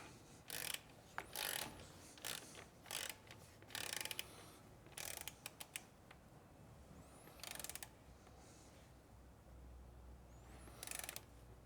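An 8mm Allen-bit torque wrench ratchets down exhaust bolts on a 2024 Triumph Bonneville Bobber, giving repeated bursts of close mechanical clicking separated by short pauses.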